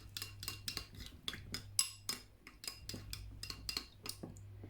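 Metal utensil scrapes and clinks against a pan as chicken is stirred with soy sauce and garlic, irregular close taps and scrapes over a low steady hum, with no talk.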